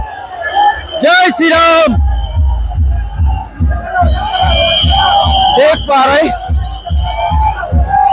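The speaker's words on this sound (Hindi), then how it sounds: "भाई, कितना भीड़ है" Large crowd at Bageshwar Baba's padyatra in Orchha, chanting and shouting close by in a loud rhythmic swell with bursts of whoops, while someone talks over it.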